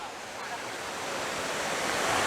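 Water rushing through a canal lock on Regent's Canal in London, a steady broadband gush that swells slightly louder over the couple of seconds, with no talk over it.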